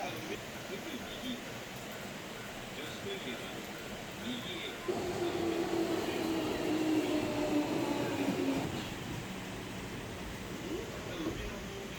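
A commuter train pulls into a station in Umeda, Japan, during heavy rain, its low rumble and rising hiss swelling for several seconds mid-clip over steady rain and station ambience, with a voice talking throughout.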